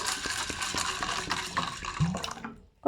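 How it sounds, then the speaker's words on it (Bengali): Water poured over raw chickpeas in a bowl to soak, a steady close splashing and trickling fill that runs for a few seconds, then a short pause and a fresh clatter at the end. "দেখুন জল দিয়ে দিলাম"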